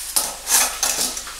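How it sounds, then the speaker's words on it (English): Steamed sweet potatoes are drained in a metal steamer basket, making a few metallic clanks and scrapes and a short rushing burst, close and fairly loud. "we're just gonna drain them with our little steamer basket here"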